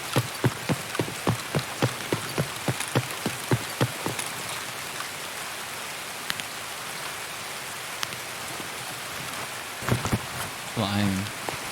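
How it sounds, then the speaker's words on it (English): Rain pours down on the Customs map at night in Escape from Tarkov, a steady patter under a run of regular thudding footsteps early on and a short voice-like burst near the end. "It's not even fucking cloudy and we've still got rain pissing down."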